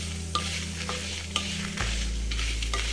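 Black peppercorns and spices roast in a dry pan for a Telugu ginger pulusu, a soft steady sizzle broken by a few sharp scrapes of stirring, with a constant low hum beneath and no speech.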